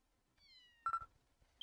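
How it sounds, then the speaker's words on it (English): A short cat meow from a Dragon Quest X scene, a faint rising cry followed by a brief higher chirp, heard alone against near silence. "Stop with the cat noises"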